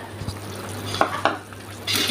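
A spoon scrapes and stirs through thick kiwi payasam in a pot, a few distinct strokes ending with a soft bubbling swish.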